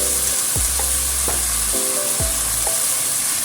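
Stir-frying in a wok with an imitation oyster sauce and liquid potato starch: a loud, continuous sizzle broken by a few sharp utensil scrapes and clanks, no talking.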